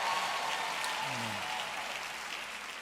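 A large church or rally audience applauds and cheers together in a steady, broad wash of clapping that holds loud throughout, with a brief voice rising within it.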